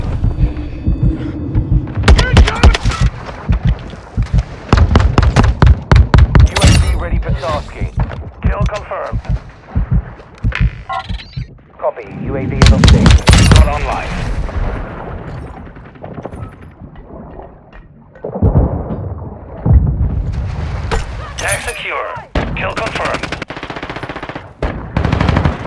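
Gunfire in Call of Duty Modern Warfare 2 from a TAQ5 rifle: loud, close automatic bursts and rapid single shots in repeated volleys. Game announcer voice lines and callouts play between the shots.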